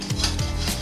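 A utensil scrapes and rubs against a pan as jaggery syrup is stirred while cooking sesame khaja, giving two or three quick rasping strokes within a second. No voices.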